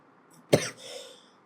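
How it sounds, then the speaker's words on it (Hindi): A single sharp cough close to the microphone, followed by a brief breathy throat sound fading into quiet. "रियली सॉरी यार, खांसी हो गई"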